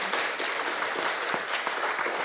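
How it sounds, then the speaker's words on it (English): An audience at a lecture-series event claps steadily for a man who spoke at the Tarrant County Commissioner's Court, a dense, even wash of handclaps filling the whole stretch with no talking over it. "Y'all should clap it up for Donald."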